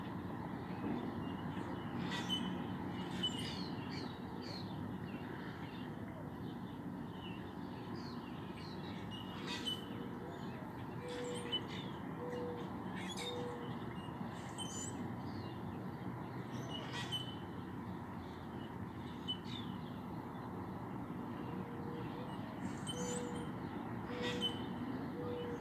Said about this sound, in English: those are basically just birds chirping, however, which you definitely hear